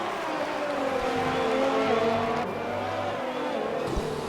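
Several Formula 1 cars in a racing video game run close together down the straight at Singapore, making a continuous droning engine whine at steady, moderate loudness, with no one talking.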